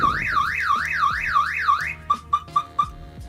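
The alarm system of a Nissan S14 240SX goes off with a rising-and-falling electronic siren wail, then switches to a run of four sharp repeated chirps, loud and close.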